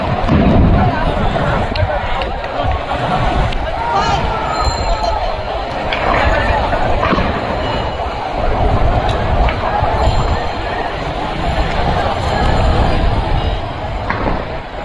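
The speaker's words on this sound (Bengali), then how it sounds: "শুধু গুলি আর বোমা টিয়ারশেলের সাউন্ড পাওয়া যাচ্ছে" Gunfire, bomb blasts and tear gas shells during violent street clashes between protesters and police, heard as a dense, loud wash of crowd noise studded with repeated sharp bangs.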